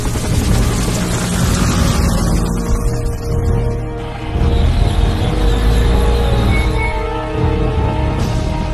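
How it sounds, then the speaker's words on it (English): Helicopter in a Command and Conquer Renegade video game cutscene, a steady loud rotor drone mixed with dense combat rumble and noise throughout. "We've got a chopper waiting."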